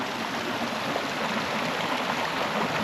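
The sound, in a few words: small creek flowing after rain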